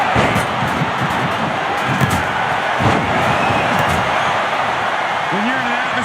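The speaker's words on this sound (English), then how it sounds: "where you can't hear yourself think because the crowd's so loud" A crowd in the WWE 2K25 video game arena roars loudly and continuously, with claps and thuds scattered through the din and commentators speaking over it.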